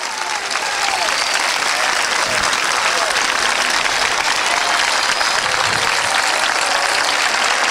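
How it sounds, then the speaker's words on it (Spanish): A church congregation bursts into loud, sustained applause during a sermon, dense clapping at a steady level throughout with some voices mixed in. "Denle un aplauso fuerte al Mesías."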